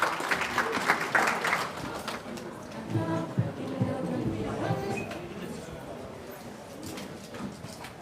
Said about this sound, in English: So a round of applause for Bright Star Entertainment.